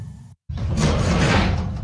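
A door slides or swings with a brief pause, then a sustained rumbling whoosh of movement follows, close and fairly loud in a cartoon scene.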